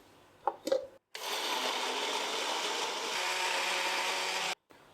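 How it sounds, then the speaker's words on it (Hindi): An electric blender grinds chopped tomatoes, yogurt and ginger-garlic paste. A couple of clicks come first, then a loud, even whir runs for several seconds and stops abruptly. "अब इसमें डालेंगे कटे हुए टमाटर, दही डालेंगे, अदरक लहसुन का पेस्ट डालेंगे और इसको हम पीस लेंगे।"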